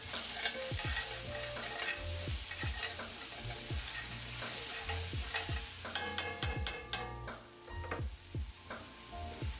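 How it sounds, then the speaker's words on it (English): Shallots and scallions sizzle in a hot pan beside seared pork chops, a steady crackle with repeated sharp scrapes and taps of a utensil against the pan, including a quick run of clicks. "here I'm going in with my shallots and my scallions"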